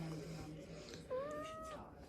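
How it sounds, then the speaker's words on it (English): A single short cat meow, fairly faint, rising then falling, over quiet background noise. "It's a very small cat."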